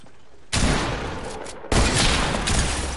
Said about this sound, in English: I'm gonna snipe him once and then you got him.